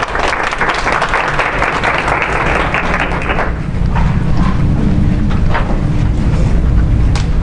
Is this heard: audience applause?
yes